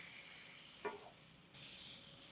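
Milk poured into semolina roasting in a pan for prasad sheera brings a soft steady hiss, a brief clink, then a sudden louder bright sizzle that holds to the end, quiet overall with no talk.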